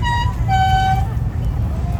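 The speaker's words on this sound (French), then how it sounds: "y compris avec les klaxons" Car horns from sedans and convertibles in a Bordeaux car parade toot in a few short blasts and one longer honk, over a low traffic rumble and background chatter.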